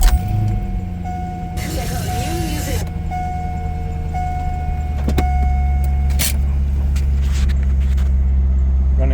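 Chevrolet Corvette C5 engine starting: a short starter whir followed by the engine catching into a steady, loud idle that swells in volume about halfway through, with a person talking in the background.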